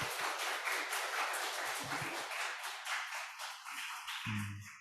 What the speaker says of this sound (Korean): 우리 옆에 있는 분들을 향해서 축복의 박수 한번 드렸으면 좋겠습니다